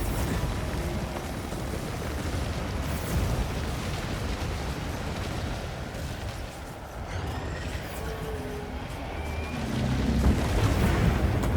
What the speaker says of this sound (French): Mais c'est une explosion nucléaire.